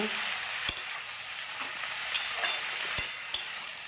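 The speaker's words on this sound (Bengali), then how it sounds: "এরকম পেঁয়াজ পাতাটা দিয়ে ভেজে নেব।" Spring onion leaves fry in a hot pan, a steady bright sizzle running throughout with a few sharp clinks of a utensil stirring and scraping against the pan.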